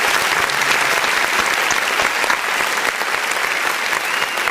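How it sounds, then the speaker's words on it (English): Steady applause from an audience, a dense wash of many hands clapping continuously at even loudness throughout, with no talk over it. "I want to go ahead and do a nice little clap for that"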